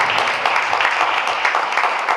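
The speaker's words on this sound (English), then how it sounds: "Can you all clap, please?" A live audience claps steadily at an African-Caribbean summit event, a dense, continuous patter of many hands with no pauses, heard from within the hall.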